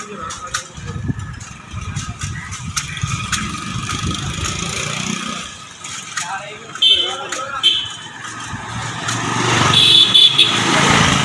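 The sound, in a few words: motorcycles passing on road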